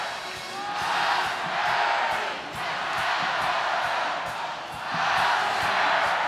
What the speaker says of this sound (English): biggest crowd in U.S. history to watch a volleyball match.